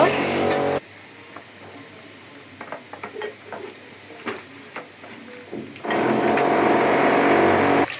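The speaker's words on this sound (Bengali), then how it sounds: "পাশের ফ্ল্যাটে টাইসের কাজ করতেছে, এই জন্য অনেক শব্দ।" Loud grinding and cutting noise from tile installation work in a neighbouring flat comes in sustained bursts at the start and end, with quieter kitchen clatter between and a voice talking.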